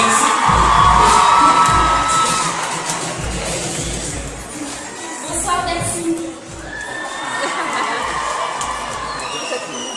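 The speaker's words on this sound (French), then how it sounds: "On peut l'applaudir, messieurs, dames, s'il vous plaît." A packed cinema crowd at the Grand Rex premiere of Aladin claps and cheers loudly, with shrill shouts and whistles rising above the steady applause and a voice speaking over it.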